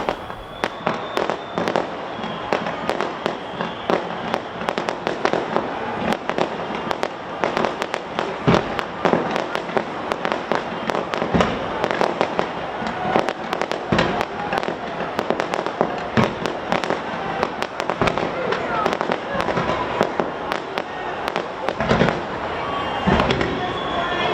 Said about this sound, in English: fireworks are being launched from Auckland's Sky Tower